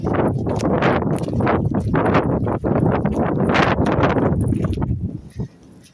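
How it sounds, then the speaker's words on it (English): Strong wind buffets a microphone outdoors on a hill near a seafront, a loud continuous roar with gusting surges that eases off at the very end. "Oh, so windy."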